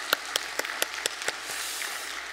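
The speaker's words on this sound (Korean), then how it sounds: "격려의 박수, 감사의 박수 드리겠습니다." Scattered claps from a church congregation at a Sunday worship service, a handful of sharp hand claps at first that thin into faint, sparse patter, fairly quiet and distant with no talking.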